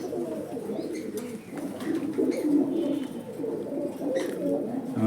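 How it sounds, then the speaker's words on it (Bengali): Domestic pigeons, including a pair of mukhi pigeons sitting on eggs, coo in low repeated rolling calls close by, with faint chirps and rustling around them. "আমার মুখী কবুতর ডিম নিয়ে এক জোড়া বসে আছে"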